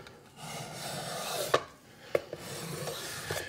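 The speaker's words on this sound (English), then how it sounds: "I'm pushing down pretty hard with this stone right here because I'm really trying to be aggressive" Knife blade scraped against a sharpening stone under heavy downward pressure, giving low rasping rubs with a few sharper scraping strokes, fairly quiet and close.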